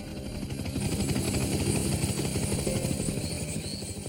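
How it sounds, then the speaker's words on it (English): A Coast Guard helicopter flying overhead at a crash site, a steady rotor thrum with rapid blade chop and engine whine swelling slightly louder through the middle before easing off. "we heard a helicopter, and it was such a welcoming sound"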